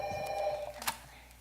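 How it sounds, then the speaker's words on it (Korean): A telephone rings in a Korean drama scene set in a Paris bakery, a short electronic trill with a bell-like tone that fades into a quiet room. "그 전화 좀 받아라."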